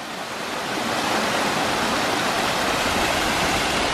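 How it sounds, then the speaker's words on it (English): A small waterfall in the Scottish Trossachs hills gives a steady, broadband rush of falling water, close and fairly loud, constant throughout with no voices. "Cool wee waterfall here."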